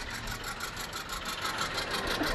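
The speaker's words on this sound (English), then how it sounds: "This is a modern style John Deere tractor." A modern John Deere tractor rolling in a rodeo parade in San Angelo, its engine giving a steady, moderately distant low rumble with a faint rhythmic pulsing, heard amid open-air street ambience and no clear talk.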